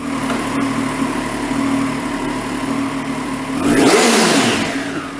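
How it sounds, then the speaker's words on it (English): A Triumph Daytona 765 Moto2 Limited sport motorcycle with an Arrow titanium-can 3-into-1 stainless exhaust idles loudly up close, then revs sharply once and falls back to a steady rumble. "The 3-into-1 stainless steel exhaust system uses a titanium can from Arrow"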